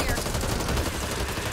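Rapid SMG fire in Back 4 Blood, a dense, loud, continuous stream of shots with no breaks, close up and filling the whole moment.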